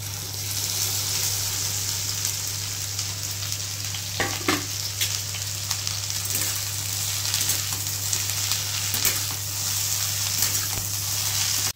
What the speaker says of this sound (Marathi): इकडे आपण आता भेंडी फ्राय करून घेते मी आता।